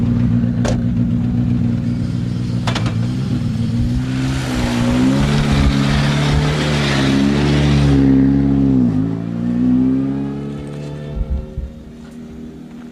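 A rally car at Rally Liepāja's Laidze stage in 2021 approaches with a steady engine drone, swells into a loud close pass with gravel noise, then its note drops and fades away with scattered clatter.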